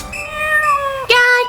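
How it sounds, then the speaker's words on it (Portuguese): A cat gives a single drawn-out meow, loud and close, followed by a short sharp mew, set in a children's farm-animal song. "Gatinho, gatinho, miau, miau."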